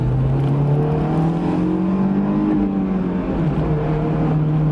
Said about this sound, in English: Acceleration, hold on.